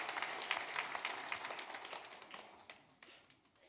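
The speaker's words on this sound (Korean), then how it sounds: "다시 한번 우리 큰 박수로 하나님 앞에 영광을 돌리겠습니다." Church congregation applauding during a Sunday service, a brief patter of many hands that is fairly quiet and distant and tapers off over a few seconds.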